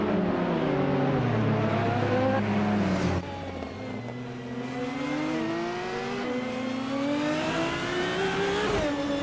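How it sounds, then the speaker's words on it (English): An orange KTM Crossbow R race car in a video game, its engine revving up through gears with a sharp drop at a shift, then climbing again in a steady, loud whine. "driving an orange KTM Crossbow R"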